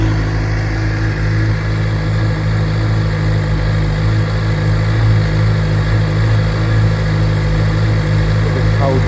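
A 2013 Suzuki GSX-R 750 L3 motorcycle with a Yoshimura aftermarket exhaust idles steadily on a cold, damp day, its low rumble close and constant throughout.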